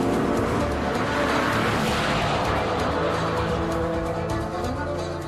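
A Brabus S BiTurbo Roadster, a convertible with a heavily reworked Mercedes V12, roars loudly at speed, a dense sustained engine and road noise that stays close and steady throughout with no talking.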